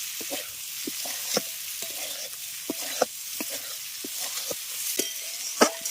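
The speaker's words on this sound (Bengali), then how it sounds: "মশলার সঙ্গে কিন্তু আলু চিংড়ি মাছ এঁচুর খুব ভালো করে কষাবেন" Potato, prawn and jackfruit stir-fried with spices in a pan, with a steady close sizzle broken by repeated sharp scraping strokes of a spatula stirring the mixture.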